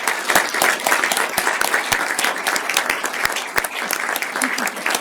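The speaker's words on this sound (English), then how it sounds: "please give yourself a round of applause for all of your hard work and contributions" An audience at an awards ceremony gives a round of applause, sustained and fairly close, with sharp individual claps standing out from the crowd and a voice faintly audible beneath.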